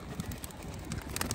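Pigeons are released and take flight outdoors, producing a brief, close burst of flapping and rustling noise across the whole moment.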